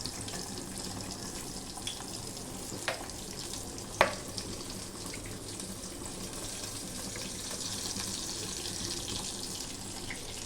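Mustard oil heating in a kadai on a gas stove gives off a faint, steady hissing sizzle, broken by a couple of small clinks.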